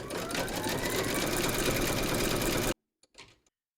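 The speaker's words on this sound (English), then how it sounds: "Pop your hoop into your machine and stitch round number 4." Embroidery sewing machine zigzag stitching a round on a hooped fabric bowl segment, a fast continuous mechanical whir with rapid needle clatter that stops abruptly, followed by a few faint clicks.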